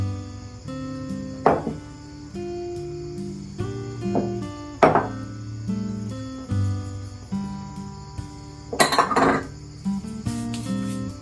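Salt, baking soda and baking powder being stirred into dry ingredients in a bowl for dairy-free, gluten-free flapjacks, with a spoon clinking and scraping against the bowl in repeated bursts over soft background music.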